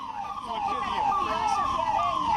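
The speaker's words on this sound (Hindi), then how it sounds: "आपको वहां पर एम्बुलेंसेस की आवाज आपको नजर आ रही होगी" Ambulance sirens wail at a plane crash site in Ahmedabad, Gujarat, a steady rising-and-falling tone over a busy outdoor hum of traffic and commotion.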